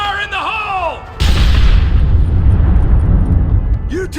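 A loud explosion in the Red Dead Redemption video game bursts in after about a second of tonal game sound, followed by a sustained rumbling roar that fills the rest of the clip.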